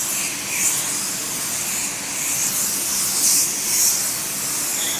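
Spray gun atomizing a DIY 4-to-1 automotive clear coat, a steady close hiss of air and spray with slight surges, no talk.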